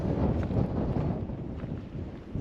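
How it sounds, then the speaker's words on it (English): Strong desert wind at Little Egypt, Utah, buffets the microphone in a constant low, blustery rumble with gusty surges throughout. "it is really freaking windy"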